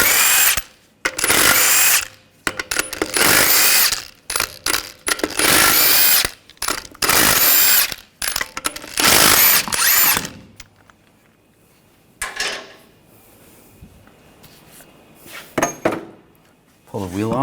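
A power tool fitted with a 19mm socket spins off lug nuts on a 2004-2012 Chevrolet Colorado 3.7L. Several loud, close whirring bursts are separated by short pauses, followed by quieter clicks and handling noises.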